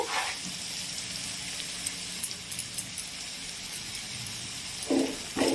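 Ginger garlic paste fries with softened tomatoes in a pan for prawn masala, a steady close sizzle with a few sharp spoon clicks and scrapes scattered through, no talking.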